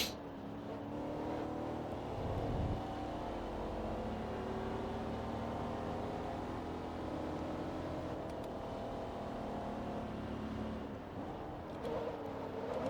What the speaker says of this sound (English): Gonna leave in some engine noise for you.